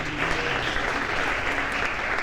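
Steady round of audience applause at a talk event, even and continuous throughout, moderately loud with no voices over it.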